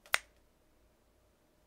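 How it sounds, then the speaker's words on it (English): A single crisp finger snap cracks once near the start, close and sharp, followed by near silence. "Just as quick as you can snap your fingers"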